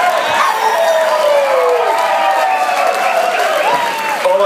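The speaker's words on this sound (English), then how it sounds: "Put your hands together." Applause and cheering come from a live show audience in Melbourne during a performance, loud and sustained, with whoops and shouts over the clapping.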